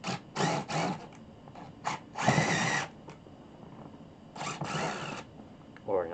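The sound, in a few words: drilling a hole in floor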